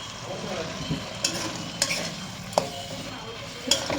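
Fish fries in a pan with ground coriander leaves and a splash of water, giving a steady low sizzle broken by a few sharp clinks of a utensil stirring against the pan.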